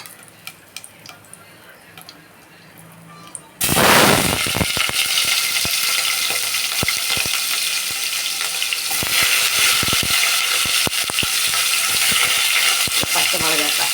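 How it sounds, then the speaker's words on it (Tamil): Onions dropped into hot oil already holding bay leaf, cinnamon, cardamom and cloves for tomato rice, bursting into a loud, steady sizzle after a quiet start, with scattered stirring clicks over the frying. "இப்போ வெங்காயம் போட்டுக்கலாம்."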